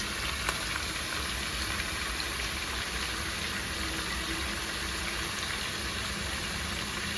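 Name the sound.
chicken meat frying in a pan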